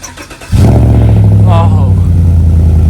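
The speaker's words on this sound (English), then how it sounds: "I'll get a little cold start for the boys." A car with an upgraded exhaust cold-starts: a brief cranking, then the engine catches with a loud burst and settles into a deep, steady idle that stays close and loud.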